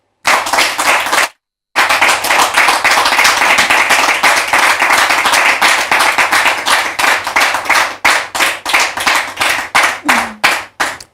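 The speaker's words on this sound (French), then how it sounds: "Merci de les recevoir sous vos applaudissements" Loud, close rhythmic clapping from a church congregation welcoming a brother and a pastor, starting after a brief silence and continuing in a fast, even beat before thinning out near the end.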